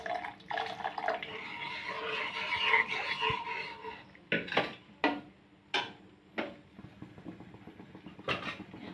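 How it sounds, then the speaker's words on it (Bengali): Water pours into a pot of South Indian sambar, a close splashing gush in the first seconds followed by a series of separate clinks and taps of utensils against the vessel, with no talking. "আবার একটু জল দিয়ে দিচ্ছি।"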